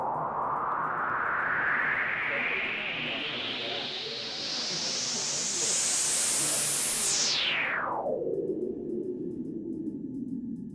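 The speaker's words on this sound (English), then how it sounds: "Let's blend that with a little white noise." White noise from a Eurorack synthesizer is swept with a filter, a hissing wash that rises steadily in pitch for several seconds, then falls quickly and settles into a duller, steady hiss that plays alone without voices.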